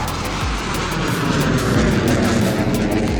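CF-18 Hornet fighter jet flying low-level training near Cold Lake, a steady, loud broadband engine roar with a constant rumble that holds throughout without a break.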